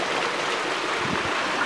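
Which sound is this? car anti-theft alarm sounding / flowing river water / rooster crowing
flowing river water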